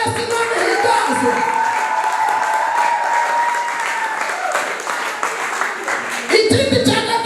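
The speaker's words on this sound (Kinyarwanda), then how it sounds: "Amashyi kwa Yesu" A church congregation claps for Jesus, steady dense applause from many hands filling the room, with a voice and singing rising over it near the end.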